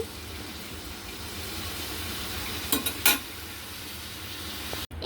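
Potatoes, pointed gourd and carrots go into a hot pan for a pabda fish curry, giving a steady sizzle broken by a brief clatter midway and a sharp knock at the end.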